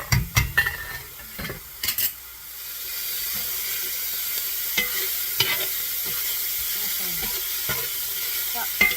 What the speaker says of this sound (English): I will occasionally stir the rice just to make sure we're not sticking or anything